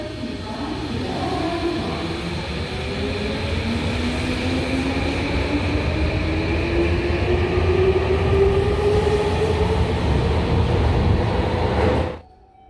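A Tokyo Metro Hibiya Line train departs Akihabara Station with a loud, steady underground rumble and a rising motor whine as it pulls away, then cuts off abruptly near the end.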